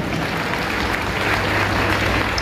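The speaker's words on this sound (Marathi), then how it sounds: "टाळ्या वाजवा, टाळ्या मयूरीसाठी." Steady applause for Mayuri at a student felicitation event, a dense continuous wash of clapping from a crowd that holds at an even level throughout.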